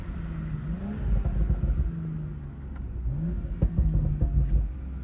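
A BMW M340i spins its wheels in third gear while drifting in the rain, its engine revving and surging in rising pulses with a rumbling exhaust heard from inside the car, with no speech.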